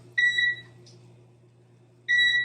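Kitchen timer beeping as it is set for cooking, two bright electronic beep bursts separated by a pause over a low steady hum.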